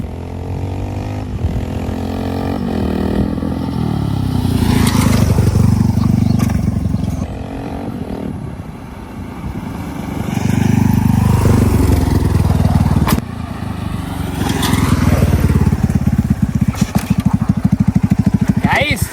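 A motorbike revs hard through a stunt jump, its engine note surging and dropping in long loud waves with brief lulls between bursts, close and continuous.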